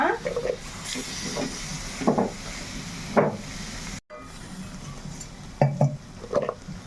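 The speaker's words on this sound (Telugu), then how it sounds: "ఇప్పుడైతే మనం ఇలా చికెన్ వేసేసుకున్నాం కదా మొత్తం కలిపేసుకుందాం" Chicken pieces and chicken legs are stirred in a pan, with soft sizzling and scraping utensil strokes against the pan in several short bursts. Nearby, background noise hums steadily throughout, with a brief dropout midway.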